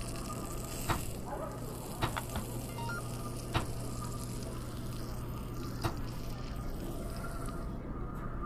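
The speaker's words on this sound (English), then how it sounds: "Turn on the grill and let's get frying." Food fries on a grill in the Job Simulator video game, a steady soft sizzle broken by a few sharp clicks and clatters spaced irregularly throughout.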